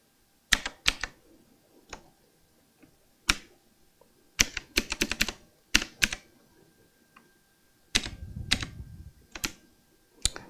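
Keys clack on an Azio Retro Classic Bluetooth keyboard in short, uneven bursts of sharp, typewriter-like clicks, close and distinct, separated by pauses and quiet handling noise.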